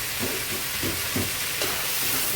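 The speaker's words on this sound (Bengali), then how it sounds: "এখন সুন্দর করে একটু লাল করে ভাজি করে তারপরে একটু মশলা দিয়ে দেবো" Pointed gourd and peanuts fry in a pan, a steady soft sizzle broken by rhythmic scraping strokes of a spatula stirring, close and fairly quiet with no voices.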